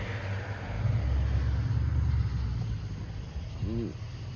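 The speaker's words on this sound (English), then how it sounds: "Excuse me, car." A car rumbles past nearby, swelling to a low roar and then fading, with a voice speaking briefly toward the end.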